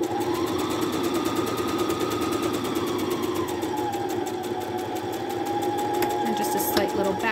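A sewing machine runs loud and close without pause, stitching a quarter-inch seam with a short back stitch on a fabric phone pillow, its steady motor whirr and fast needle chatter filling the clip.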